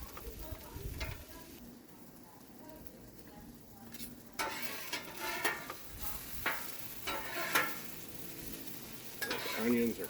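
Onions sizzle on a Blackstone flat-top griddle as a spatula scrapes and stirs them, with intermittent metallic scrapes over a steady frying hiss nearby.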